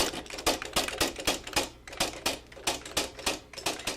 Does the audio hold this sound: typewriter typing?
yes